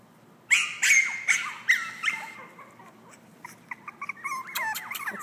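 Shih Tzu and toy poodle cross puppies whimpering and yelping up close, a burst of loud high squeals at the start, then a run of softer, rapid whines, with no talking.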